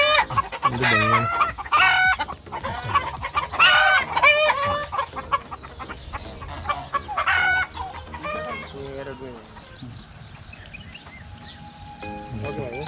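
Chickens cluck repeatedly and a rooster crows at a desert farm where ducks are also kept, the calls loud and close at first, then thinning out into quieter background clucking with a voice briefly heard.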